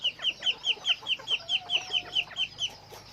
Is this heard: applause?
no